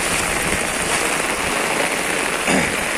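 Steady heavy rainfall in Hyderabad, a loud even hiss of water drumming on road and surfaces, with a brief swell of heavier splashing near the end.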